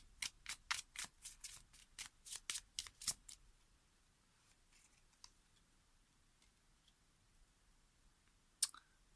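Tarot cards being shuffled in a rapid run of crisp riffling bursts for about three seconds, then quiet with a few faint taps and one sharp click near the end.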